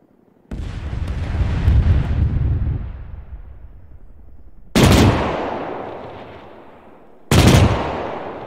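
In Arma 3, three heavy rocket explosions go off one after another, each a loud sudden blast with a long rumbling tail and gunfire mixed in.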